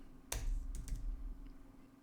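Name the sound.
typing on a computer keyboard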